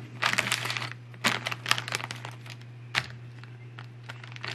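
A mail package is unwrapped, with irregular crinkling and crackling bursts of plastic or paper packaging, close and fairly quiet over a low steady hum.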